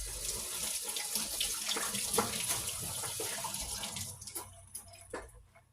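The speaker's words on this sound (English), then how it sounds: "We'll run these peppers under the warm water." Frozen peppers are rinsed under a running warm kitchen tap, water splashing steadily and fairly quietly with no talking.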